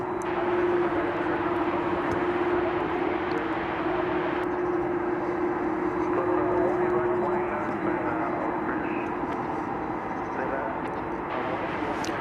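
A fixed-wing airplane at DFW Airport produces a steady, loud jet roar with a persistent engine tone that holds throughout, broad rumble filling the scene from a nearby spotting position, with no talk heard.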